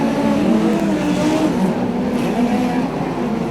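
Midget speedcars racing at Archerfield Speedway in Brisbane during a Queensland title A-main, engines roaring loud and steady as the cars power through the turns, with a faint voice in the mix.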